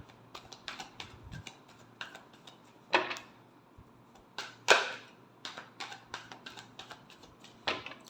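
A deck of tarot cards shuffled by hand during a reading, heard as soft scattered clicks and taps with two brief, louder riffling bursts, close and quiet with no talking.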